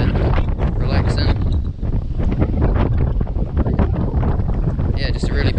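Heavy wind buffets the microphone throughout, a loud continuous roar and rumble that drowns out almost everything else.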